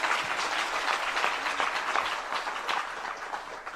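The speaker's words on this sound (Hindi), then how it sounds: "जरा तालियां बजा दीजिएगा" Audience applause at a Hindi spiritual gathering, steady dense clapping filling the whole stretch at moderate volume with no talk over it.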